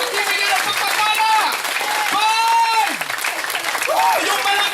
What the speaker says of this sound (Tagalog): Humihingi ng palakpak ng Barangay Taloy.